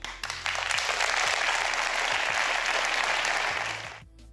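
Audience applause at an Apple iPhone XS launch event, a dense, steady wash of clapping that rises quickly, holds loud for several seconds, then tapers off.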